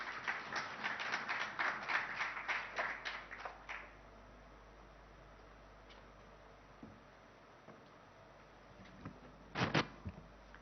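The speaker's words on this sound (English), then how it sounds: "Can we have a round of applause?" At an investor summit in a hotel hall, a light scattering of claps rings out for a few seconds, then fades to near silence with a couple of isolated taps later; sparse and fairly faint.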